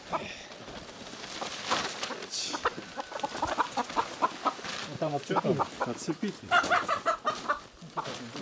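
Hens cluck and chatter close by in a rapid, uneven stream while people talk over them.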